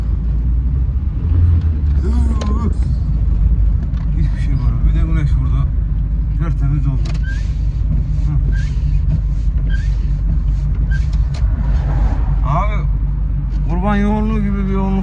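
Busy road traffic beside a livestock market in Çorum, Turkey: constant rumbling engines and passing vehicles with brake hiss, under nearly continuous loud talking.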